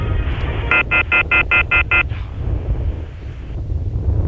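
Strong wind buffets the microphone at a high school baseball field, making a steady low rumble, and a quick run of seven electronic beeps sounds over it.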